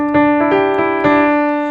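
A call and response melody in its second part: a short run of four or five bright, plucked synth notes in quick succession, ringing out clearly with no voices.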